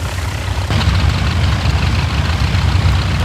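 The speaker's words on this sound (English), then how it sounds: "Both engines are ignited." Twin piston engines of a de Havilland Dragon Rapide biplane idle steadily just after starting, a loud, even low throbbing drone running continuously without talk.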